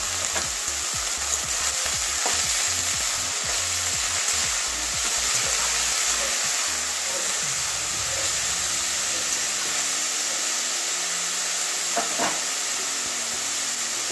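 Shredded cabbage for a paratha filling fries in a hot pan, giving a loud continuous hissing sizzle with brisk stirring scrapes early on that ease off into a steady sizzle.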